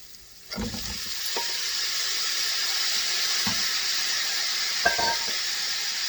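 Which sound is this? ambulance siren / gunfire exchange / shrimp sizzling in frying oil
shrimp sizzling in frying oil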